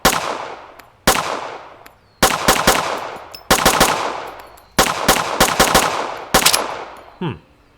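A weapon fires in the video game Road to Vostok, loud, close single shots and quick double or triple bursts with long echoing decays between them, ending in a short metallic handling sound.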